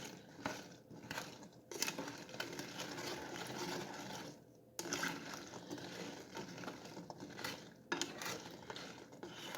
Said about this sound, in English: Just give that a quick stir around.